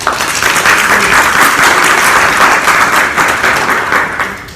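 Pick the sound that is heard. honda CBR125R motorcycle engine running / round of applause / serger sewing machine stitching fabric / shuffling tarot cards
round of applause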